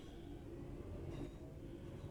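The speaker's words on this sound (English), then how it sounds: "Bring this train to a complete stop by moving the power brake handle into the braking range." A train rumbles along in Train Sim World 4, a steady, low continuous drone with faint mechanical hum and no talking.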